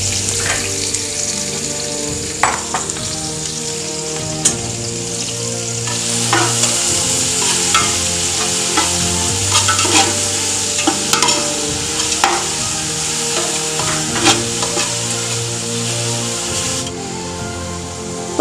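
Sliced onions fry in hot oil with cinnamon, star anise, cloves and black pepper, a loud continuous sizzle broken by repeated scraping stirs and spoon knocks against the pan, with no one talking.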